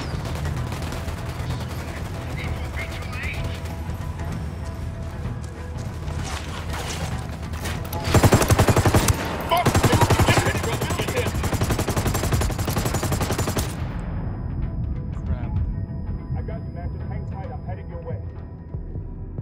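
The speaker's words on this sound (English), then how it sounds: "Shots fired. We need ads engaging the cartel." Gunfire in the video game Ghost Recon Wildlands, a sustained firefight with bursts of automatic shots and impacts over a steady hum, swelling loudest midway before easing off, with voices talking over it.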